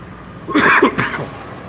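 A single harsh cough bursts out, close and fairly loud, trailing off quickly into quiet, during ice hockey game commentary.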